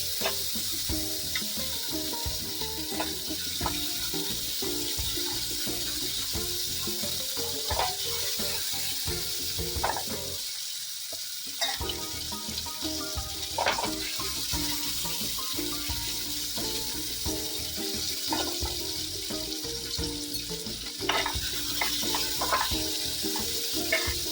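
Tomatoes with turmeric sizzling in a hot pan for tomato tok daal, a steady loud frying hiss with crackles and occasional stirring scrapes throughout.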